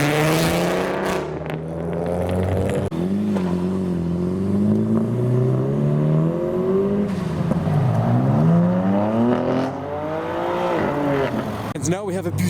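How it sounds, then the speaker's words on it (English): Nissan Skyline R32 GTR engine revving loudly and close at a JDM car meet, with rising and falling harmonic sweeps as the throttle is blipped repeatedly over a steady rumble, and crowd voices beneath. "The R32 making a lot of noise."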